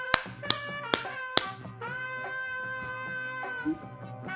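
Four quick, crisp taps on a TV remote land in an even, rapid rhythm, close and distinct, followed by a steady tonal hum with several sustained pitches.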